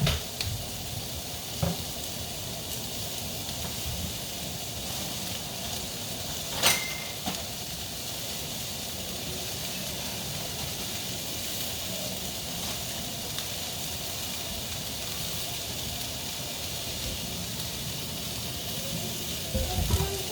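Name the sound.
oil sizzling in frying pan for shrimp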